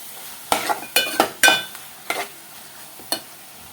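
Mutton keema curry stirred in a pan, several sharp scraping and clinking strokes of a spoon against metal over a soft sizzle, close and irregular, with no talking.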